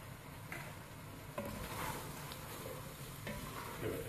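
Keema matar, minced meat and peas frying with spices in a pan, a continuous close sizzle with scraping stirring strokes running through it.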